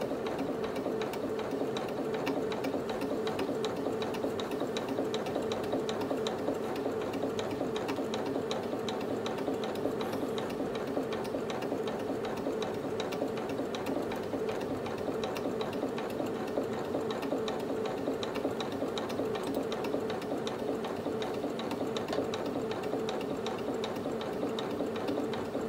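A sewing machine stitches bias binding onto fabric with a bias-binding presser foot, a steady, continuous mechanical whir with rapid rhythmic ticking of the needle, close and even throughout with no talking.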